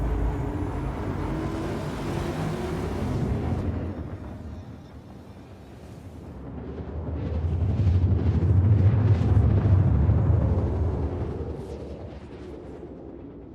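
Drake Cutlass spaceship in Star Citizen flying around ArcCorp, a steady deep engine roar that swells louder in the middle, with rumbling thrust and whooshing layers and no talk.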